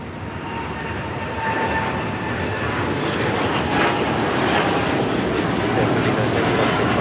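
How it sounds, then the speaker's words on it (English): A United Airlines Boeing 787-10 Dreamliner taking off from Los Angeles airport for Tokyo, heard as a steady, broad, rising jet-engine roar from some distance, continuous throughout. "This is United Airlines flight 39 taking off to Tokyo Haneda on the 787-10 Dreamliner."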